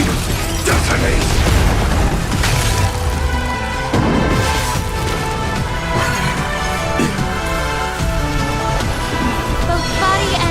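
Booming explosions and crashing impacts from the Honkai Star Rail video game land in quick succession over a dense musical score, loud and continuous throughout.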